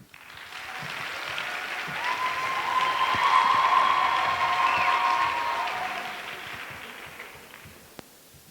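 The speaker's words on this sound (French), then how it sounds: "Je vous demande de les applaudir bien fort" A studio audience at the Incroyables Talents 2019 talent show applauds and cheers an urban dance group. The clapping swells to a peak midway, then gradually fades, with faint crowd noise underneath.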